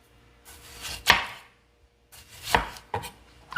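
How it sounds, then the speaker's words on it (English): Knife chopping a tomato on a cutting board, done in two short bursts of sharp, close chops with a quiet pause between them and no talk. "next I got a nice tomato here. I'm gonna chop up about a half of a cup"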